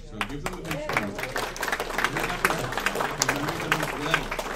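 Audience applause for the wait staff at an evening show, a steady dense wash of clapping with voices and cheering mixed in throughout.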